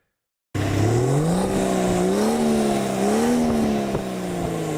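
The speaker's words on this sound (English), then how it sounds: "M51 is a water-cooled and turbocharged inline-6 diesel with a Bosch VP2 or VP20 rather." A BMW M51 water-cooled turbocharged inline-6 diesel with Bosch injection revs steadily, its tone climbing and then holding a rough, droning pitch up close and loud, with no one speaking.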